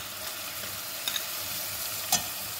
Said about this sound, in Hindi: अब हम इसमें डालेंगे सारे मसाले।